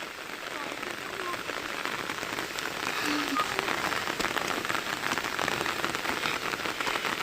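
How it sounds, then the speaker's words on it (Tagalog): Steady rain patters and hisses on a surface, a dense even downpour continuing throughout with no voices standing out. "Kaya lang ulan."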